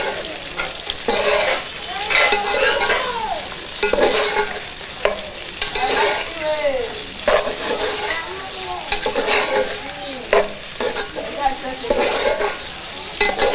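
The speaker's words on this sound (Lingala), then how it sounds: "tozwi poivron na biso tobwaki tobandi kobalola" Sweet peppers stirred and fried in a pan, with steady sizzling and repeated scraping strokes of a utensil over 13 seconds, close and fairly loud, with no talking.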